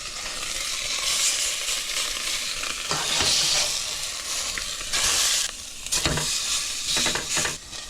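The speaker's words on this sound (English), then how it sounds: "I'm gonna sear this fish on like each side for maybe 30 seconds." A piece of freshly caught fish sears briefly in a hot pan of olive oil inside a winter camper van, a loud crackling sizzle that swells and dips with occasional stirring sounds and no speech.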